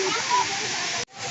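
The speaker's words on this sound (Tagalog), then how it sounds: "May mini waterfalls din dito." Small cascades at Bato Springs give a steady, broad rush of falling water with bathers nearby, briefly cutting out near the end before resuming; voices are faintly present under the roar.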